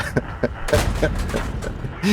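Tank cannon fire with HEAT shells in a tank video game with an M41 Walker Bulldog in Paris: several sharp, punchy shots spaced unevenly, with muffled game rumble and a voice underneath.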